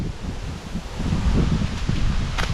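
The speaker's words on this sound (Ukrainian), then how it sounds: "Дуже вітряно, тому Можуть бути певні шуми" Low, rumbling wind buffets the microphone outdoors in a forest during mushroom picking, steady and loud, with faint rustling mixed in.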